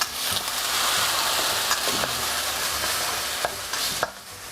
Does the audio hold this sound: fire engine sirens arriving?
no